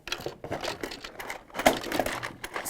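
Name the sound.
rummaging through a sewing box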